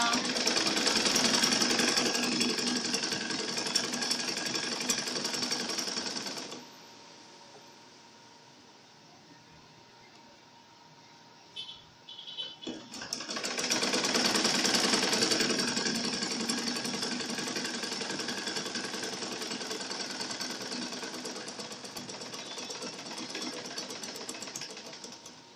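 A sewing machine hums steadily while stitching the side seam of an A-line skirt, pausing for a few seconds with small clicks before resuming a long continuous run; close and fairly loud, no speech.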